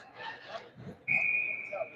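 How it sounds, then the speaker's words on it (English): A referee's whistle at an ice hockey game, one sharp, sustained high blast lasting nearly a second, heard after brief crowd and arena chatter with faint voices underneath. "And there's the whistle."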